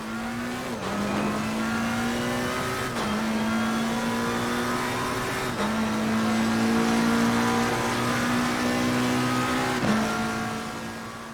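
GT race car lapping a British circuit through a long right-hand corner in Assetto Corsa Competizione, a loud sustained engine drone that drops sharply at each of several gear shifts and then climbs again, with no voices.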